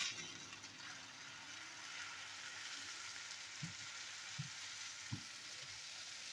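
Onions fry in a pan for an Egyptian egg omelette, a constant soft sizzle and hiss with a few low knocks of a utensil against the pan, steady and fairly quiet.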